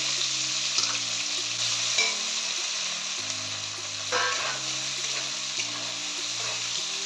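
Ginger paste fries with bay leaf, cumin and chopped tomato in a pan, a close steady sizzle with repeated scraping stirs and a faint watery hiss throughout.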